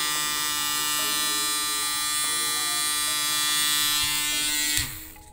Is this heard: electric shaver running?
yes